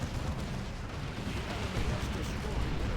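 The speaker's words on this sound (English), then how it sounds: "And there's a rocket barrage." In the strategy game Dawn of War 2: Retribution, a rocket barrage pounds the battlefield in continuous, dense, rumbling explosions that roll on without a break.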